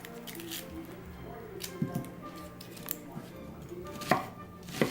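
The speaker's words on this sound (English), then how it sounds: "Cut the onion in half, cut off the end, not the root." A knife cuts an onion on a cutting board with irregular, close, crisp chops and taps at a fairly quiet level, some strokes landing harder than others, no voices.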